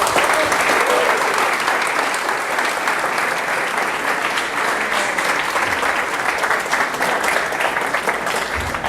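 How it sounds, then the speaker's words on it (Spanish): Strong, continuous applause from an audience welcoming a speaker at a university event, dense clapping holding at a steady level for nearly nine seconds. "Lo recibimos con un fuerte aplauso,"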